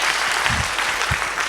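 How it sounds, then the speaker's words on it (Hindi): An audience at a Hindi gospel sermon claps together in a brief, dense burst of applause, fairly close and even throughout. "ताली बजाइए"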